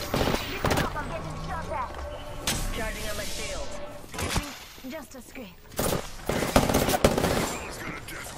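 Rapid automatic gunfire in a video game firefight, sharp bursts and single cracks scattered throughout, loud and close, with game voice callouts between shots.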